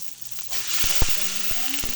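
Garlic and onion sautéing in a pan for chicken tinola: a steady close sizzle that swells as the food hits the oil, with a few utensil knocks and scrapes.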